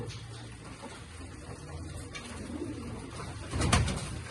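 Soft cooing of pigeons at a pigeon venue, in a busy, noisy space, with a louder burst of low cooing near the end.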